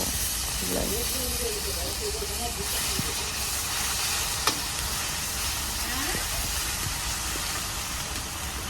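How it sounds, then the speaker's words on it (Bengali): Fish frying in a pan at home gives a steady, close sizzling hiss that runs unbroken through the whole stretch, with faint voice traces underneath. "তো এখন মাছগুলি ভালো করে ভাজা লাগবে"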